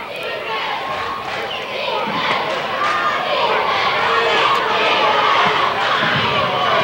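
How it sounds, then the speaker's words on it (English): Loud, sustained crowd cheering and shouting fills a high school gymnasium during a 1988-89 varsity basketball game against Delphos St Johns, the roar swelling steadily with commentary voices mixed in. "Crowd is definitely getting into this game now."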